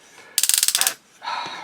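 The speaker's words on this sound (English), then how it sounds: "Ratcheted knee joint, get you a little bit past 90." The ratcheted knee joint of a Lijiang T-Rex Megatron toy clicks through about ten quick, sharp, close ratchet steps, followed by a softer scrape.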